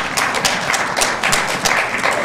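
Audience clapping after a talk on torture and human rights, a steady, dense wash of applause with a few louder claps standing out.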